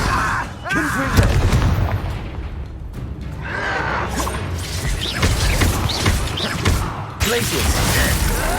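Confringo blasting spells in Hogwarts Legacy burst with booming, crashing impacts amid busy combat noise, several loud hits through the stretch, with a voice speaking among the blasts.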